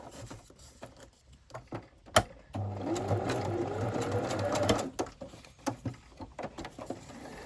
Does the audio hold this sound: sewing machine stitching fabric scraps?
yes